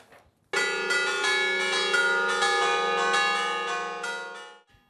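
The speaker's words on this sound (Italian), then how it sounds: "Le campane che suonano a festa nel paese di Celesia" Church bells ring out loudly and festively in the village of Celesia, Italy, a dense, overlapping peal of repeated strikes that sustains for several seconds before fading.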